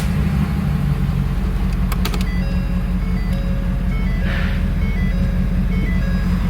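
A Ford F250 pickup, just fitted with a replacement transmission, idles steadily with a low, constant rumble, while a few faint electronic beeps and clicks sound over the engine.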